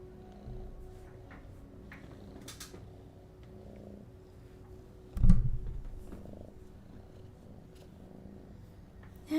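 A cat in the video game Starfield purrs softly and steadily up close, a low continuous rumble, with a brief louder thump partway through.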